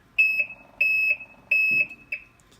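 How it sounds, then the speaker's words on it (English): A high electronic warning buzzer on a Ferris IS4000 ride-on mower dashboard beeps four times in a steady rhythm, each tone about half a second long, loud and close, with a faint thump near the end. "it also has a buzzer. When you turn the key on, you can hear it."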